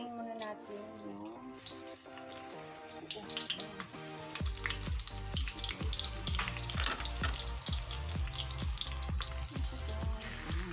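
Vegetable lumpia frying in hot oil, a steady crackling sizzle that grows louder and busier partway through, with scattered pops and clatter throughout and no talking.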